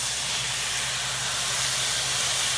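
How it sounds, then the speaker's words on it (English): Diced tomatoes hit a hot pan of partially cooked rice, giving a steady, loud, close hiss of sizzling steam that holds evenly throughout with no voices. "So once you get your pan nice and hot and get your rice partially cooked, now we add some diced tomatoes."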